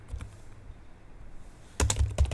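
Quick bursts of computer keyboard keystrokes entering a command, clustered in a loud, close flurry near the end after a quiet stretch.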